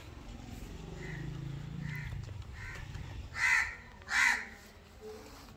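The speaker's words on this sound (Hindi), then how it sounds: "कौवा बता रहा है कि कोई मेहमान आ रहे हैं" A crow caws twice in close succession, loud and nearby, over a low rumble of background noise in a village setting; faint earlier calls precede the two prominent caws.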